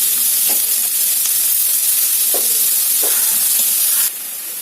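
Sprouted chickpeas and bottle gourd pieces fry over a high flame in a pan, making a loud, steady sizzling hiss with a few soft stirring knocks. The sound drops in volume near the end.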